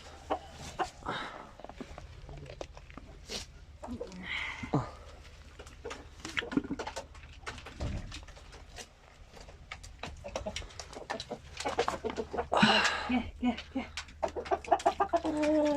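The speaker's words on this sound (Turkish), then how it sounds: "Burada horozlarımız var arkadaşlar." Several roosters and hens cluck and call nearby in a farmyard, with an occasional louder squawk, while people talk intermittently in Turkish in the background.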